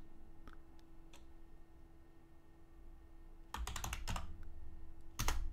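Terminal command typed on a computer keyboard, a few sparse keystrokes at first, then a quick cluster of close clicks and a final burst, over a quiet hum.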